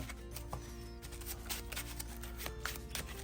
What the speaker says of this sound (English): We've got Spider-Man's cards here. And I'm going to shuffle these up